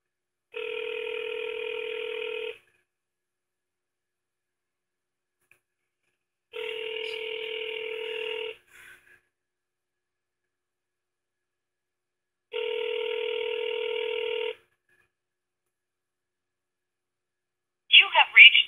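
A phone call rings out over a speaker while waiting for someone to answer: three long, evenly spaced buzzing rings, each about two seconds, separated by silence, then a short burst of a voice at the end.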